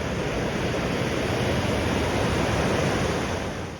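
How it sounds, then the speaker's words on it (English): A river with a small natural beach on the Great Divide Trail rushes steadily along, a dense, even broadband wash that stays loud and close throughout and eases only slightly at the end. "a small natural beach where you can actually get in the river and not get swept away"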